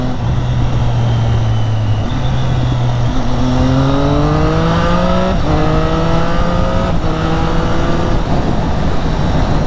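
A Triumph Street Triple fitted with an Akrapovic carbon exhaust is heard up close and loud. The engine drones low, then climbs through several rising pulls with brief dips at the gear changes.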